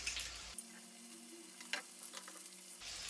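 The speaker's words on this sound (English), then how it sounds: "I'm going to go ahead and get my garlic in." Minced garlic drops into a hot pan while cooking ramen, giving a soft sizzle with faint stirring scrapes that sits low and steady for about three seconds, with no talking.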